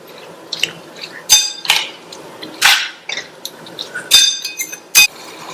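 Radish pieces and water going into a pan for a Tamil radish side dish, heard as a series of sharp metallic clanks and splashy clatters with a spoon against the pan, irregular and close, no talking.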